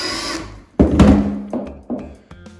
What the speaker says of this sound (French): Je vais visser la vis pour qu'elle descende.